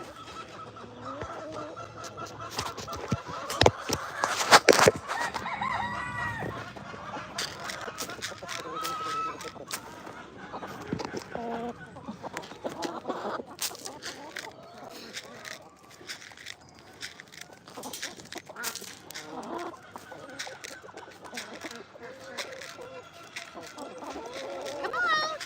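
Chickens clucking and a rooster crowing on a farm sanctuary where turkeys share space with the hens: steady nearby clucking and fowl chatter throughout, with a louder cluster of calls early on.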